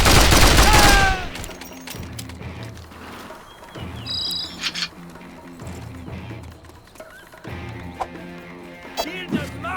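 Heavy .50 caliber machine gun fire in the Mercenaries 2: World in Flames video game, a loud opening burst followed by thumping repeated shots and rumbling blasts under a steady low game background, with scattered sharper cracks later.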